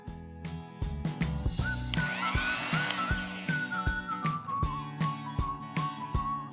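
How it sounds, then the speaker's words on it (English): Electric mixer grinder whirring as it grinds soaked moong dal with ginger and green chilies, a loud motor whine with rising and falling pitch and rattling pulses from the jar, no talking. "I'm grinding 2 inches of ginger and 4 green chilies. Let's put this to grind."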